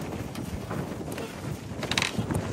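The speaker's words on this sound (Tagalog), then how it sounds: "Lakas ng hangin." Strong wind buffets the microphone in constant rumbling gusts, with a broad roaring hiss and no talking.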